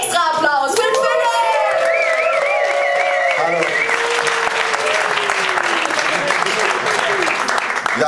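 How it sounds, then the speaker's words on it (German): Loud, sustained audience applause with some whoops and cheering for a speaker at a food science slam at a Munich science and fiction festival; an announcer's amplified voice runs over the opening seconds before the clapping carries on alone. "bitte nochmal einen super extra Applaus"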